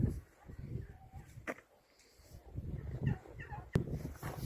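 Chickens cluck in a chicken coop on an orchard property in Balakən, with scattered, moderately distant calls over a low, rumbling outdoor background.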